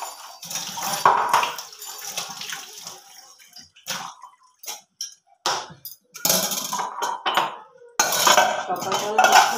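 A pan being washed under running tap water, splashing and spraying in bursts with clinks and scrapes of metal, stopping and starting several times at close range.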